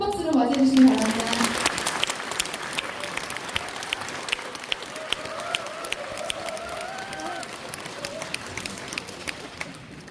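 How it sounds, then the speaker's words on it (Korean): An indoor audience at a local redevelopment briefing breaks into loud, dense applause to welcome a political candidate, fading gradually into lighter scattered clapping and crowd murmur over about ten seconds. "큰 박수로 맞이해 주시기 바랍니다."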